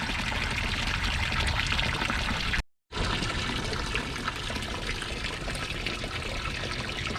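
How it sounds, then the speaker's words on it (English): Water from a homemade filter on a small garden pond splashes and gushes back into the pond, a loud continuous rushing pour that cuts out briefly partway through and then resumes. "I'm achieving lots of air into the water, beautiful amount of flow"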